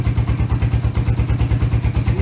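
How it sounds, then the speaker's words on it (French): A Suzuki 125 GN Scrambler motorcycle idling while it warms up, its single-cylinder engine thumping in a steady, even low pulse, close and loud with no one talking. "Là, la moto a un petit temps de chauffe, donc l'huile va être un peu plus fluide."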